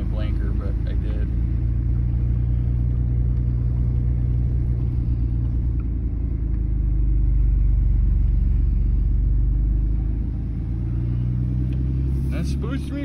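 A 2007 Dodge Dakota pickup drives along with a low, steady engine and road rumble from inside the cab, swelling slightly midway. A voice talks over the drone.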